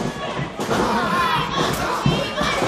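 A capacity crowd of around a thousand fills a high school gym at Rock Grove High School in Franklin, Pennsylvania, for an independent wrestling show, a dense steady roar of cheering and shouting with occasional thuds and talk mixed in.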